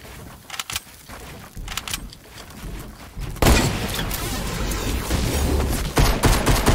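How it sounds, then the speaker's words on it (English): Rapid pistol gunfire in a video game, a dense burst of repeated shots that gets much louder and continuous after a quieter start with a few scattered shots. "Max hates it when I spam him with the pistol"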